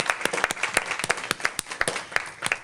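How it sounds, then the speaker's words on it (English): Sparse, distinct claps from a small audience at a school superintendent's meeting, a scattered round of individual hand claps at moderate distance with no voices. "Let's give Dr. Brown Alexander another round of applause."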